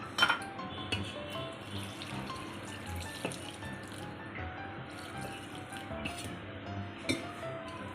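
Water splashes and trickles into a bowl of fenugreek-spinach handvo batter amid light clinks of utensils against glass, fairly close, with no talking.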